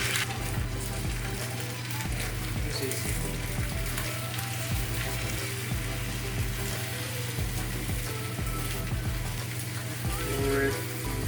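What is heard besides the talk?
egg and dashi mixture poured into a hot pan, sizzling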